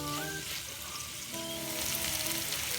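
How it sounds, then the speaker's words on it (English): Tofu sisig is stirred in a frying pan, producing a continuous close sizzling hiss with soft stirring scrapes while background tones hum steadily beneath. "You have to mix it very well until the tofu will absorb the flavor."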